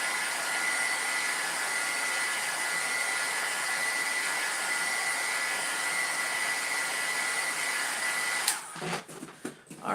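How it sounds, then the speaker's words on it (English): A heat gun blows steadily while drying alcohol ink for a craft piece, a loud continuous whirring hiss up close that cuts off near the end, followed by a few handling clicks. "So I'm gonna actually hit this with a heat gun."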